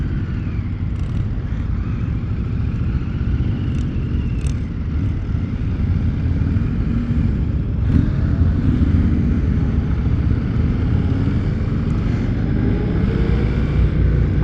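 A 2025 Indian Scout Bobber motorcycle being ridden, its engine a steady low rumble under constant wind rush, loud and continuous with only slight swells in pitch.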